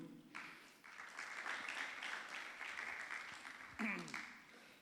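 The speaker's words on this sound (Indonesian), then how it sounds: "mau dikasih aplaus boleh, puji Tuhan" Faint applause rises from a congregation at a Good Friday service at GIA Kudus church, a soft sustained patter of clapping with a voice speaking over it near the start and end.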